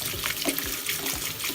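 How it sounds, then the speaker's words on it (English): Water from a tap runs steadily over a plastic action figure held beneath it, a brief splashing rinse with no talking. "I'm just going to rinse him off"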